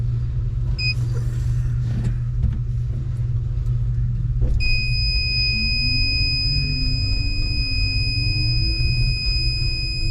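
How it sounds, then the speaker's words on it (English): A Chang Li electric car's warning beeper sounds as a steady high electronic tone over the vehicle's low rumble. The tone starts partway through and continues alone, with no voices. "that beeper is so annoying"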